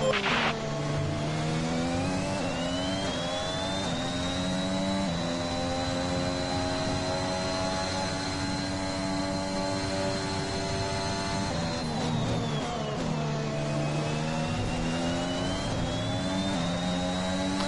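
Formula 1 race car engine in the F1 2021 racing game, a loud continuous high-pitched whine that rises and falls with the revs through gear changes, with no talking.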